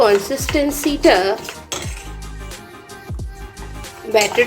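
A spoon clinks and scrapes around a bowl as cauliflower batter is mixed with water and salt. The brisk metallic knocks are close, and a voice sounds alongside.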